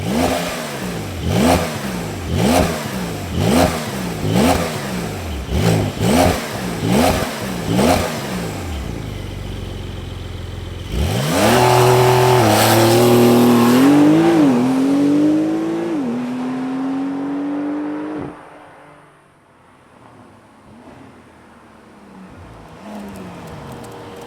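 A Porsche 911 GTS 3-liter twin-turbo flat-six engine is blipped repeatedly in sharp, rhythmic revs, then winds up into a long, loud roar before falling away to a low idle.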